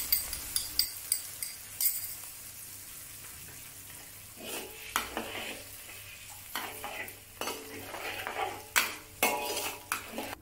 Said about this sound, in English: Add the General Tso sauce that we prepared earlier to the wok.